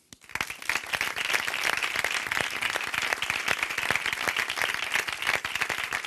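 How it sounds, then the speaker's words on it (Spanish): An audience at a flamenco forum gives sustained, dense applause that starts suddenly and holds steady and close throughout, with no talking over it. "Pido un aplauso para Juan Ángel Tirado."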